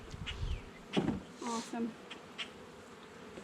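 Honey bees buzz around an opened hive during a supering inspection, a moderate drone beneath a man's nearby speech.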